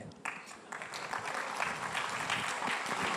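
Audience applause at a live summit event, a dense sustained clatter of many hands clapping from start to finish, fairly close and full.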